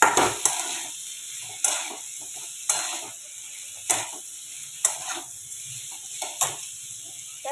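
A spoon scrapes and knocks around a kadhai as a khichdi mixture with mashed potato is stirred, giving sharp scraping strokes about once a second over a soft background hiss.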